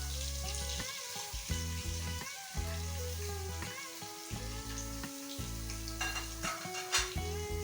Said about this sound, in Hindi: अब अच्छी तरह लहसुन को फ्राई कर लेंगे ताकि लहसुन का कच्चापन जो है वो ख़त्म हो जाए